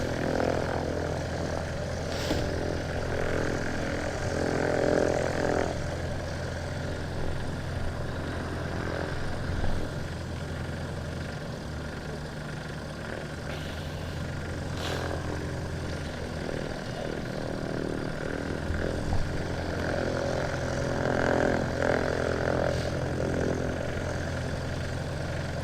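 A small Cessna 152 light aircraft engine runs steadily at an airport, a continuous close propeller drone with a low rumble that swells slightly now and then, no talk over it.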